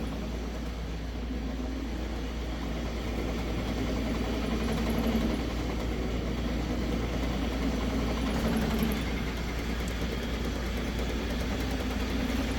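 An electric-converted Jeep CJ-7, in fourth gear and four-wheel drive, runs with a steady low hum and mechanical drivetrain whir, a constant, moderate vibration-like drone without engine revving.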